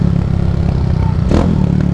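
A 150 sport motorcycle fitted with a 280cc engine is ridden, its engine clattering and revving loudly and steadily up close, with a brief louder burst near the end.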